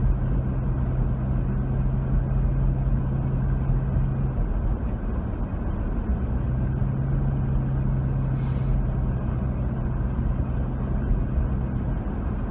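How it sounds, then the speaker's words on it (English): A city garbage truck out on an early-morning round to empty cans rumbles steadily nearby, its engine droning with a constant low hum and no distinct clanks standing out. "it's a city truck. They're out here already emptying out the garbage cans from yesterday"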